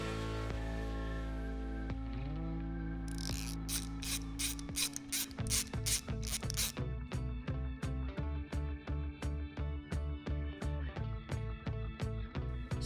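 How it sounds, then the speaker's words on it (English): An 8mm wrench works the grease zerk on top of a UTV ball joint, giving a steady series of sharp ratcheting clicks in a regular rhythm, close and clear, after a brief mechanical clatter and with no voices. "we're going to want to remove the grease zerk on top of the ball joint, which is an 8mm."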